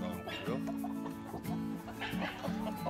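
Hens clucking close by in short, repeated bursts, including Shamo and Araucana breeds, with a person talking over them.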